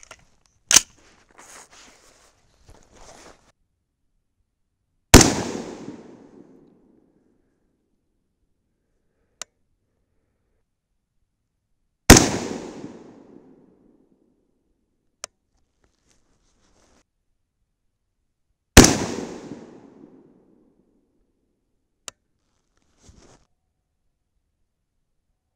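Three loud, sharp shots ring out several seconds apart from a 5.56/.223 AR rifle firing 69 grain Match King handloads over Varget powder, each with a short decaying echo and faint clicks between.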